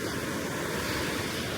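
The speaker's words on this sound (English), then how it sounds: "the waves" Ocean surf rolling onto a backcountry beach at Canaveral National Seashore in Florida, a continuous broad wash of breaking waves with a low rumble, loud and close, with no voices.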